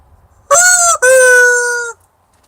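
A doorbell chiming a recorded rooster crow, two loud, clear electronic crowing bursts back to back with a brief break between them, close and alone in a quiet room.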